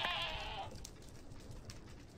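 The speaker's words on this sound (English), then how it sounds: "I see you, goat." A goat bleats in the Minecraft FTB Skies modpack: one short, wavering bleat at the start, then a quiet, hissy game background with faint scattered ticks.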